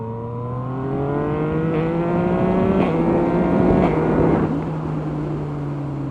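Yamaha MT-09 motorcycle with a custom exhaust, its engine droning steadily in rising and falling tones through several revs, loud and close throughout with no talking.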